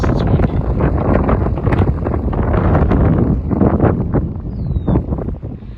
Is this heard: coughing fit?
no